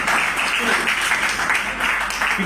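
Listeners at a social organisation gathering on Hindu-Muslim brotherhood clap together in a brief, dense burst of applause, with speech mixed into the steady noise of the crowd.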